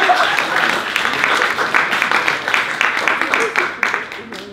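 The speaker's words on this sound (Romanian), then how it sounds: "Să aplaudăm pe Ilinca Sfânta Bandaj." An audience applauds in a pub talk setting, clapping with distinct individual claps that thin out and fade toward the end, while a voice speaks over it.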